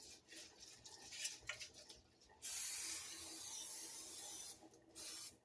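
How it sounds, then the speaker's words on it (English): Buttery non-stick cooking spray hisses onto a cake pan for a pistachio cake in a long, steady burst of about two seconds, then one short final spritz, close and fairly loud after some quiet clinking. "I'm going to spray it with a buttery no-stick spray."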